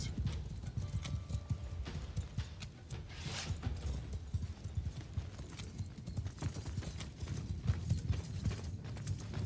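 Cavalry horses in the medieval battle game Mount & Blade Warsails, with continuous clip-clop hoofbeats thudding at a steady gallop over a low rumbling battlefield din, fairly loud and unbroken.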